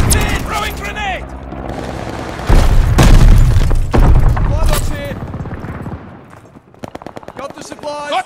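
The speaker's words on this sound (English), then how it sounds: "Throwing grenade." Grenade blast in Call of Duty Vanguard during a PS5 multiplayer match: a heavy, loud boom rumbles for a second or two amid bursts of gunfire, with game voices calling out before and after.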